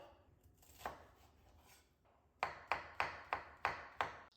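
A knife chops onion and mushrooms on a cutting board: a few scattered cuts, a short pause, then six crisp, evenly spaced chops close by.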